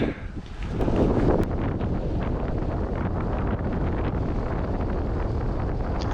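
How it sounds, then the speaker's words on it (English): Wind rushes steadily over the microphone of a cyclist descending a hill in a side wind, making a loud, constant roar for several seconds. "We're going to watch for the cross-tail wind here though."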